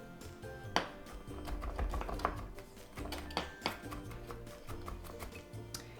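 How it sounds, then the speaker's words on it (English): A knife mincing garlic on a cutting board, with irregular, close taps and sharper knocks running for several seconds. "if you do not like to bite into chunks of garlic, of course, mince it like what I'm doing here"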